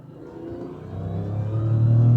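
A Jaguar X300 XJR car with a manual gearbox rises in pitch and grows louder as it accelerates hard, a steady climbing engine drone with no talking.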